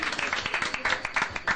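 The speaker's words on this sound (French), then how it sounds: "Ça s'applaudit un peu." An audience at an HIV/AIDS awareness event gives a short burst of scattered clapping, brief and fairly close, with light voices beneath.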